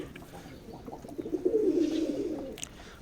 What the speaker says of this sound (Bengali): ওই যে নটটা যে ডাকাডাকি করতেছে